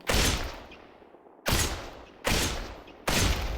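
Four loud AK rifle shots in the VR shooter Population One, each a sharp crack with a long decaying tail, spaced about a second apart with no talking.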